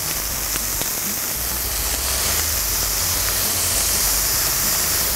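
Thin slices of beef steak sizzle in a hot pan on the stove, a steady bright hiss with faint crackles throughout, close and loud with no talk.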